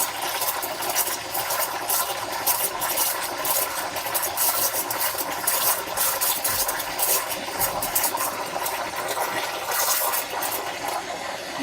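Milk steamer wand frothing milk for hot chocolate, a steady loud hissing and gurgling roar with bubbling surges as the wand moves in and out of the milk, continuous throughout.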